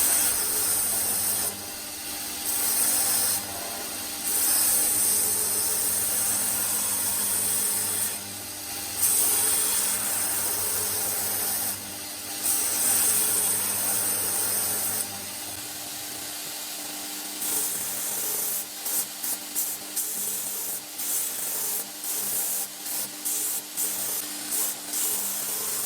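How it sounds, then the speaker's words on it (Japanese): A belt grinder with a 60-grit belt grinds the back face of a Japanese kitchen knife of CPM154 steel, a loud steady abrasive hiss in long passes broken by short pauses, with sparser intermittent contact near the end. "60番のベルトで裏面を作っていきます。"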